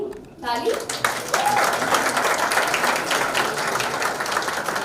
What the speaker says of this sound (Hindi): सॉन्ग अनवील करने से पहले ताली.